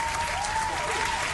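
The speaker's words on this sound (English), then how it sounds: "A little cheer for the Sword Master." A brief burst of crowd applause, probably a streamer sound effect, cheers a Sword Master drawn in a digital Dune Imperium board game. It is a steady, dense wash of clapping, heard alone and at moderate volume.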